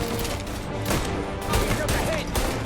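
Gunfire in the Mafia Definitive Edition video game, a dense run of shots over about three seconds with continuous game noise and a voice at points, steady and fairly loud throughout.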